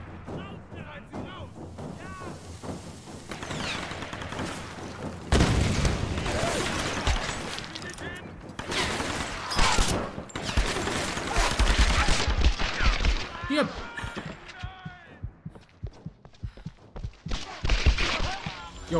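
Gunshots ring out in a Tomb Raider game fight against wolves, with several sharp bursts amid hectic combat noise while a person talks over the action.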